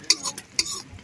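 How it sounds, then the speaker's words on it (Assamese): Onions being stirred in a frying pan, a few quick scraping strokes of a utensil against the pan, close and brief, with little sizzle beneath. "এনেকৈয়ে পিঁয়াজখিনি লৰাই যেতিয়ালৈকে ৰঙা পৰিল তেতিয়ালৈকে লৰাই থাকিলে"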